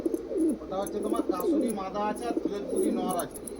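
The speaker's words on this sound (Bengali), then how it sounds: "যেটা ডাকছে ওটা ফিরোজপুরি নড় আছে" A Ferozpuri pigeon coos in repeated low rolling phrases among other pigeons at a bird sale, close and fairly loud, with soft chirps and faint background voices.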